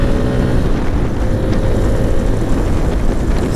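Zontes 350 T adventure motorcycle under way, its engine droning steadily beneath heavy wind rush, loud and constant from the rider's position without distinct gear-change breaks.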